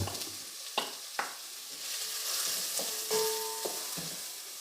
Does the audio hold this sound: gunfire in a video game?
no